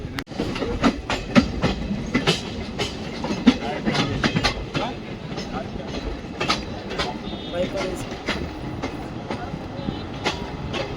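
Inside the Mysore Ajmer Special Express on the line toward Ballari, wheels clatter in a steady clickety-clack rhythm over a continuous rolling rumble, with sharp rail joint clicks recurring throughout.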